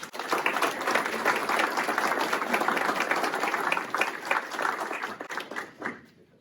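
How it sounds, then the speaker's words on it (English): Audience at a Kenosha County Sheriff's Department promotion and awards ceremony applauding a newly promoted detective, a full, sustained round of clapping from a crowd that tapers off toward the end. "A round of applause for Detective Johnson."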